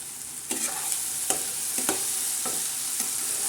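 Fenugreek leaf and potato bhaji with onion sizzling in a pan, a soft steady hiss broken by several sharp scraping stirs from a spoon, heard up close.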